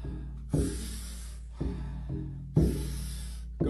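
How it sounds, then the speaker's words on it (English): Four forceful mouth breaths in a steady rhythm, each a sharp rushing inhale fading into a softer exhale, close and loud with no talking. "we're going to be taking about 40 powerful breaths into the body through the mouth"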